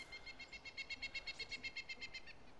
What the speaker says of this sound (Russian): эти птички еще отвлекают